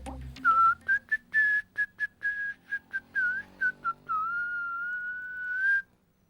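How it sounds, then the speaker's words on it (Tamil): A person whistles a lively, choppy tune of short and held notes while combing their hair, clear and close, ending with one long sustained note. "தலைய சீவும் போது விசில் அடிக்கணுமே."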